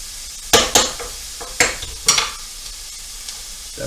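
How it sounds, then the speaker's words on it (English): An onion mix is stirred in a frying pan: a handful of sharp scraping clatters from a utensil against the pan sit over a faint background sizzle, close by, with no talk. "let's give that onion mix a stir"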